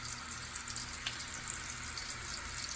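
Salisbury steak patties sizzling in a pan, a soft, continuous crackling hiss with small pops, quiet and steady with no talking.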